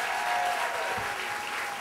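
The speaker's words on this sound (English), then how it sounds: "Big round of applause for Vicky as she comes up." A steady burst of applause from an audience at a storytelling event, dense clapping filling the whole moment without pause.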